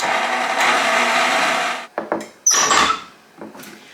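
An electric mixer whirs steadily while blending half a cup of vegetable oil with a cup of granulated sugar for banana bread, then cuts off, followed by a few short clattering and scraping bursts.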